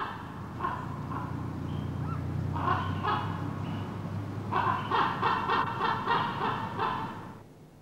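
A common raven gives repeated harsh, croaking caws in several bursts. The calls are fairly near and stand out clearly against a steady low background rumble.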